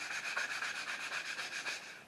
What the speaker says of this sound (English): I'm just going to sand them up with some sandpaper by hand.